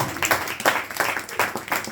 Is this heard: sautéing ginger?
no